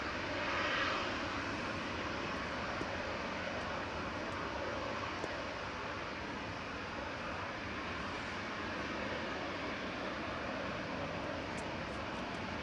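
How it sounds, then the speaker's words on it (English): An Embraer ERJ-145 regional jet lined up on runway 23 left at Manchester Airport for departure to Aberdeen gives off a continuous broadband engine roar, steady and moderately loud, with no talk over it. "GSA-JK lined up and ready to go on 23 left for departure back to Aberdeen with flight 26."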